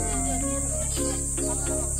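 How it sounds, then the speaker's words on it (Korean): Cicadas buzz in a dense, continuous high drone on a hot summer day along a mountain path beside a monorail, steady and fairly loud, with faint voices talking underneath. "진짜 매미 소리가 이제 제대로 들리기 시작한다."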